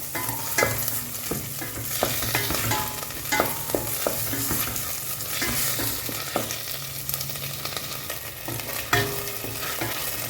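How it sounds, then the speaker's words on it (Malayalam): Green chili and ginger-garlic paste sauté in a pan for chicken stew, a continuous sizzle punctuated by frequent sharp spatula scrapes and knocks against the pan, close and without any talking. "ഇഞ്ചി വെളുത്തുള്ളി അരച്ചത് നമുക്ക് ഇട്ട് കൊടുക്കാം. ജസ്റ്റ് ഒന്ന് ഷാലോ ആയിട്ട് ചെറുതായിട്ടൊന്ന് സോട്ട് ചെയ്തിട്ട്"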